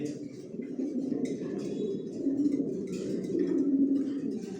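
Pigeons resting in a loft coo softly and continuously, a low murmuring chorus of several birds close by with no talk over it.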